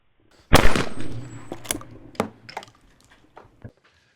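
Shotgun shots at Olympic skeet clay targets on station 6 pairs: two loud, sharp blasts about 1.2 seconds apart with ringing decay, followed by fainter clicks and rattles, no talking.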